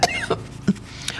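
A storyteller voices a short cough, a few quick throaty bursts spaced across about a second, close and fairly loud, imitating a character coughing.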